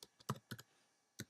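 Quiet keystrokes on a computer keyboard typing an email address, a few scattered clicks in small clusters with a pause before a final tap, no voices.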